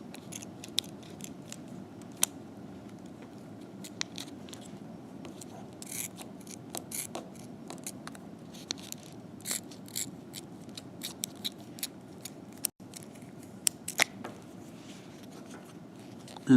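Plastic sports guard material being trimmed with scissors over an oral appliance model, a scattered run of short, crisp snips and clicks over a low steady background hum, close and fairly quiet, with no voices.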